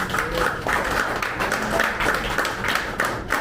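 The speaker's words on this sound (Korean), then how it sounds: "우리 김만진 회장님께 제가 큰 박수 한번 부탁드리고 되겠습니까?" An audience claps for a chairman at an inauguration ceremony of a Busan district association, a fairly loud, sustained round of applause with uneven rhythmic surges running through it.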